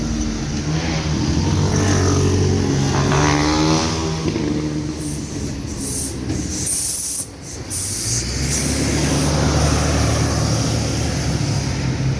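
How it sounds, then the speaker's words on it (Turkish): A bus passes close by on a residential city street, a loud, broad engine and tyre roar that swells, briefly dips, then continues with low rumbling traffic noise. "Tamam otobüs geçsin"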